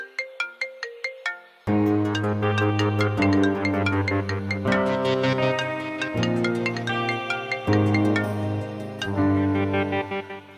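A phone ringtone playing loud and close: a quick run of plucked bell-like notes, then a fuller repeating melodic phrase that keeps looping on its own.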